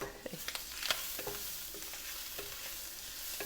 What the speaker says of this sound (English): I hear popping happening in the pan behind me, so I'm going to give it a quick toss.